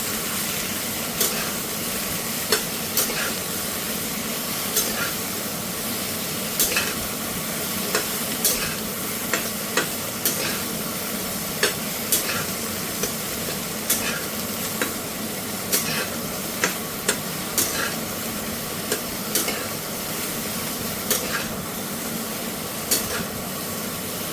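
A utensil stirs spiced food with turmeric and red chili powder in a pan, steady scraping strokes repeating every second or so over a constant close sizzle of frying.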